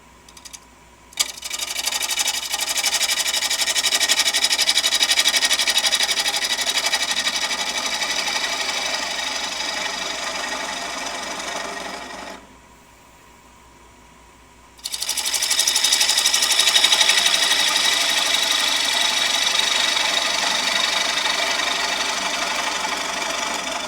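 A wood lathe turns a piece of cherry as a tool flattens its top side, giving a loud, steady whirring hiss that stops for about two seconds and then resumes, with no talk.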